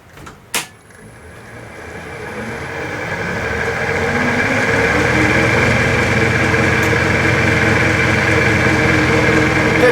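A wood lathe spins up to about 1,000 RPM turning a small pallet wood lid box, a steady hum and whir building over a few seconds after a brief knock, then holding constant and fairly close.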